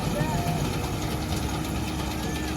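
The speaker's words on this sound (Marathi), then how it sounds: "मशीन चालू आहे आपली हार्वेस्टर तुम्हाला दाखवतो" A combine harvester's heavy engine runs steadily with a low, constant rumble and faint rattling throughout, no pauses.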